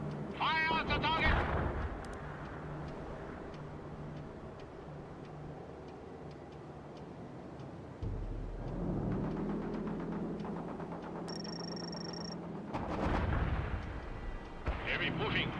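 Gunfire and artillery from the World in Conflict video game crack and boom through a busy battle mix, with sharp bursts at the start and end, a shrill radio-like tone midway, and a steady low rumble throughout.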